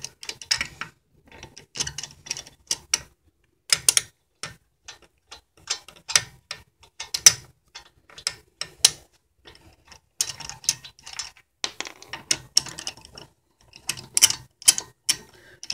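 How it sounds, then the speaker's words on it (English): A socket wrench with a 17 mm socket ratchets lug nuts off a BMW E36 wheel, giving close, crisp clicking bursts in irregular runs separated by short pauses. "You want to use a 17 mil socket. I've already loosened these, so I can just take them right off."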